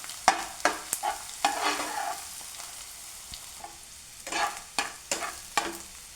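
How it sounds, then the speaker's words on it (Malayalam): Egg thoran being stirred in a frying pan: a soft sizzle runs underneath while a spatula scrapes and taps the pan in repeated sharp strokes, sometimes in quick clusters, close and moderately quiet. "ഗൈസ്, ഇത്തിരി 2 മിനിറ്റ് വേവന വരെ ഇളക്കി കൊടുക്കണം."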